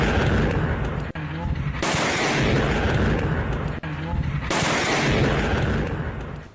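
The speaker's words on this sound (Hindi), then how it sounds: "जमीन से मिसाइल टकराई, वहां जोरदार धमाका हो गया" Repeated heavy missile-strike blasts roar and rumble, each explosion followed by a long crackling boom, loud and close with a voice faintly underneath.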